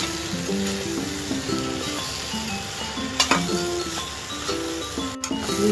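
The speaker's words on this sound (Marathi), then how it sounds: "स्टीलची कढई त्याच्यामुळे थोडं लागतं कढईला, पण ते असं काढून घ्यायचं आणि मस्त असं परतत राहायचं आपली भेंडी" Sliced okra sizzles steadily in a hot steel kadai as it is sautéed uncovered. Occasional metallic clinks and scrapes of a spatula stirring against the pan break through the frying noise.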